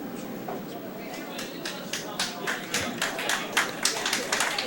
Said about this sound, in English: Applause in the warm room for our A event finalists and winners coming in.